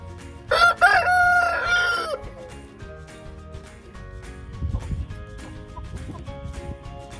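A rooster gives one loud, close cock-a-doodle-doo early on, followed by quieter farmyard clucking and rustling with no one talking.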